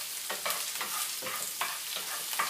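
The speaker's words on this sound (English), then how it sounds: "as they saute in the pan here" Vegetables sauté in a pan for pasta pomodoro, a steady sizzle broken by several scraping stirs at a regular rhythm, close and fairly loud.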